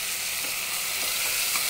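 Soaked moong dal hisses and sizzles in hot tempering oil, a dense, steady crackle heard close up with nothing else over it.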